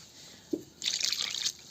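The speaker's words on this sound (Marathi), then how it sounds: "अजून पाणी टाकते" Water poured into brinjal cooking in a pot: a brief drip, then a bright splashing pour lasting under a second, close and fairly loud, with no talking.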